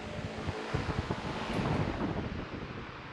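The AC blower motor of a Ford F250 runs steadily at a low, windy roar, its rush swelling as it speeds up to a higher setting, with no voices over it.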